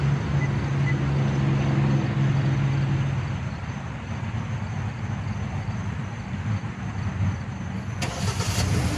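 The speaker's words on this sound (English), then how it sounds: "And here you go, the car started." A 2011–2014 Hyundai Sonata engine fires up via remote start and settles into a steady low idle hum, close and fairly loud, with a brief brighter burst near the end.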